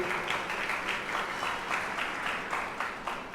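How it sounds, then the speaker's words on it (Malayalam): Guests at an engagement ceremony break into steady clapping, a dense crowd of hands heard from a short distance, keeping an even level throughout with no voices above it. "എല്ലാവരും ഒന്ന് ക്ലാപ്പ് ചെയ്തേ."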